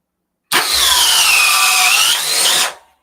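A high-speed power drill bores through a workpiece in one loud, steady burst of about two seconds, the motor whine holding nearly constant before it spins down, with no talk over it.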